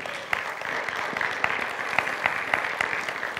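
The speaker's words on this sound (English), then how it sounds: "Give the Lord a hand clap" Church congregation claps in a steady, fairly quiet wash of hand claps, with a few sharper individual claps standing out in a rough rhythm throughout.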